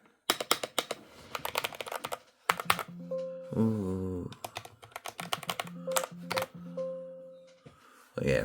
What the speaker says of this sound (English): Here's a keyboard.